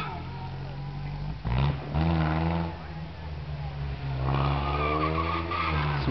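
A four and a half litre Bentley at the Prescott hillclimb squeals its tires loudly over a deep, lorry-like engine roar, with bursts around the second and fourth seconds as the car is driven hard, while a commentator talks over it.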